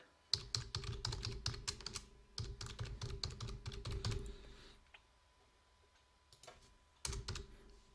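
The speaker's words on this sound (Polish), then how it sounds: "Wprowadzamy jeszcze adres e-mail." An email address being typed on a computer keyboard: bursts of quick, close keystroke clicks, pausing briefly around two seconds, going mostly quiet near five seconds, then a few final taps.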